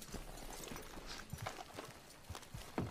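Horse hooves clip-clop in a video game, with a series of walking hoofbeats at moderate volume and a couple of sharper, louder steps near the end.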